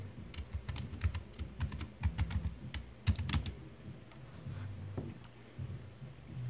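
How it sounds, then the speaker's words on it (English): Keystrokes on a computer keyboard as a password is entered, an irregular run of close, crisp clicks in bursts with short pauses, no voices. "type in your password,"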